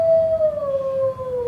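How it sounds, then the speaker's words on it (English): A werewolf howl from a comedy sketch rises and slowly falls in one long, clear, sustained wail, near and fairly loud, with no speech over it. "I can't stand all the howling"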